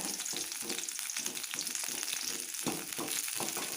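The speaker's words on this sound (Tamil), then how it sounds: "எண்ணெய் காஞ்சிருச்சு. நான் ஒரு பெரிய வெங்காயம் சேர்த்துக்கிறேன்." A large onion sizzles steadily in hot oil, a dense close crackling hiss with light stirring scrapes throughout, no voices.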